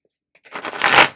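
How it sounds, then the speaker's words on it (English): Tarot deck being riffle-shuffled, one short, close burst of rapid card flutter that builds briefly and stops, heard alone. "it's always easier to riffle some decks when you're trying to shuffle them up than others"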